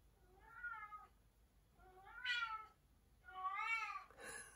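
A house cat meows three times in a row, each cry drawn out and rising. The calls are close and fairly clear against a quiet room, with no talking.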